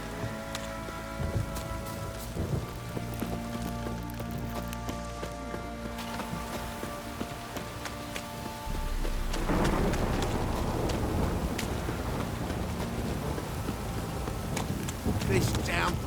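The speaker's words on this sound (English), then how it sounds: "This downpour's a bastard" Steady rain patters over a constant background with occasional rumbling thunder in the video game The Witcher 3: Wild Hunt, growing heavier and louder partway through, with voices talking faintly over it.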